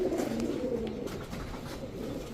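Trained high-flyer Giribaz and racer pigeons coo nearby in soft, repeated low calls, overlapping one another against a quiet background.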